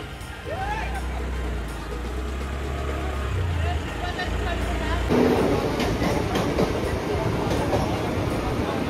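A train rumbles along with a low, continuous roar that shifts to a harsher rattling texture halfway through, while people talk over it.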